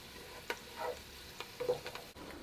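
One tablespoon of curry powder frying in two tablespoons of oil in a pot over low heat gives a faint, soft sizzle. Sparse crackles and a few stirring scrapes break through it, with no voices.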